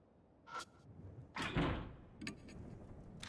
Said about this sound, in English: Locked door.